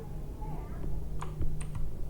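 Rapid clicks of a computer keyboard while typing PHP code, short sparse bursts close up under a low steady hum, no talking.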